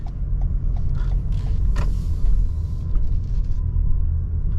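Inside a 2020 Toyota RAV4 with 17,000 miles, driving on London roads, a low, steady cabin rumble of tyres and engine stays quiet and smooth throughout, with no talking.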